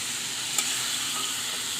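Small tengra fish sauté in a pan with a steady, soft, even sizzle and a faint stir partway through, with no voices.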